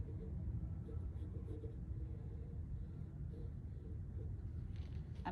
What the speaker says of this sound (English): I'm gonna take my pencil, and you're gonna take your pencil, and I'm gonna draw a rectangle right here